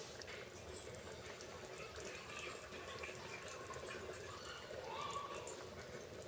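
Water poured from a bowl into simmering gravy in a cooking pan for a methi matar malai curry, a steady soft splashing and trickling that runs evenly throughout at close range.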